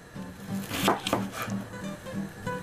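A knife chops onion on a cutting board in a kitchen, a steady run of quick knocks with a few louder strikes, close up and without talk.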